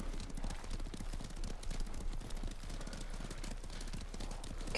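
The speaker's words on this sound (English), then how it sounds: "You got a different horse." Horse hooves clop steadily in the samurai video game Ghost of Tsushima, a rapid, even trotting rhythm layered over faint ambient game sound.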